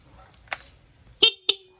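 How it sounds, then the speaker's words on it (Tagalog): A stock vehicle horn gives three short honks, the last two louder and sharper, with quiet pauses between. "Kailangan natin siyang ibalik sa stock horn"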